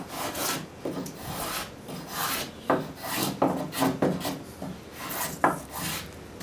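A travisher shaves a wooden chair seat in a series of rasping, scraping strokes with uneven rhythm, each pass a close, dry rub across the wood with short bright accents.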